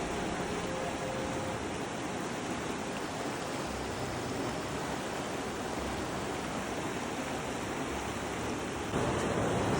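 The Rangit river rushes steadily in the morning, a continuous broadband roar of flowing water that stays loud and even throughout, with no voices over it.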